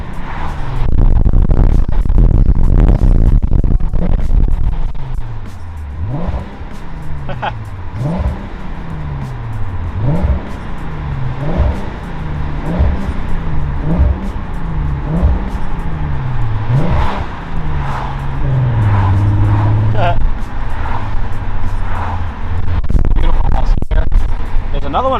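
A lowered Volkswagen Passat cruises with all its windows down, wind buffeting loudly over a steady engine drone that rises and falls in repeated shift-like sweeps, with occasional road bumps and knocks.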